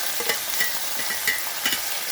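Ridge gourd frying over high flame in a pan after a panch phoron tempering, giving a constant loud sizzle with several light scraping stirs spaced through it, no talking.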